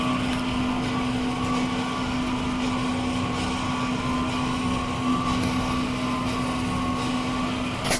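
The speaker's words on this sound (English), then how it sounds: "then we can see the pump start pump ink" The pump of a Focus Nebula 42F DTF printer runs while pumping white ink, giving a steady mechanical hum with a constant tonal drone that stays even and unbroken throughout.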